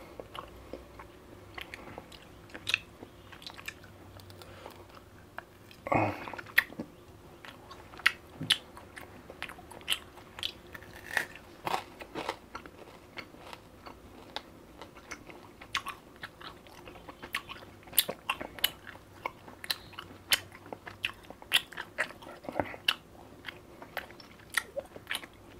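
Someone bites and chews a triple-flavoured sour mango, strawberry and blueberry lollipop, with sparse, crisp crunches and quiet mouth sounds scattered through near silence.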